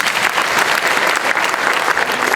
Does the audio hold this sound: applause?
yes